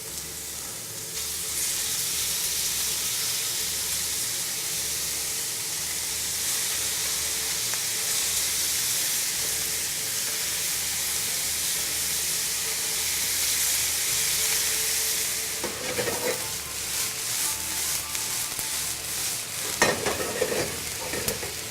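Onions sweating in a frying pan give off a steady, close sizzle with soft hiss that holds evenly, broken near the end by a few stirring scrapes and clatters.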